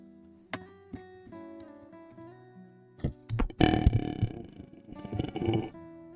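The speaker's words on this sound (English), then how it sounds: "Sorry, I had a burp." A person lets out a loud, drawn-out, rumbling burp close to the mic, with a shorter second burp following, while music plays softly underneath.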